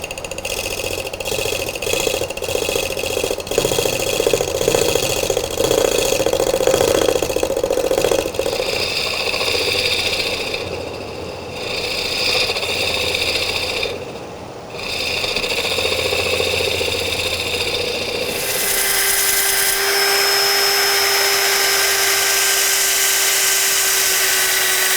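Wood lathe spinning a walnut bowl while the bottom is cleaned up, a whirring motor with rhythmic mechanical ticking and scraping cuts, then the tone shifts to a steadier high whine near the end; no talking.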